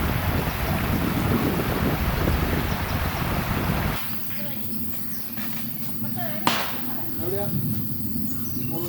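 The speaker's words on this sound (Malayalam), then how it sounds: "നല്ല തണുത്ത കാറ്റുണ്ട്." Loud gusty cold wind roars against the microphone for several seconds during a forest trek, then eases to a quieter breeze with faint bird chirps in the background.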